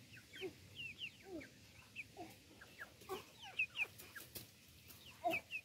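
Hens and chicks cluck and cheep in a farmyard egg-laying project, with scattered short calls of varied pitch, some close and some farther off, over a quiet background.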